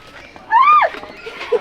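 A horse gives one short whinny lasting under half a second, loud and fairly close, with faint voices and light background noise around it.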